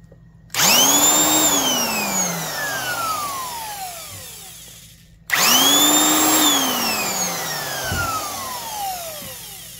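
A Rockwell/Porter-Cable 6 amp heavy-duty 1/2 inch drill, geared to 600 RPM, starts twice with a loud whirring motor whine that winds up, then slowly winds down each time, heard alone and close.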